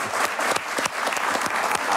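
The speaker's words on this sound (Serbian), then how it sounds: "Molim vas, aplauz." Steady, dense audience applause filling a television studio during a talk show, many hands clapping at once in a continuous close wash with no voices over it.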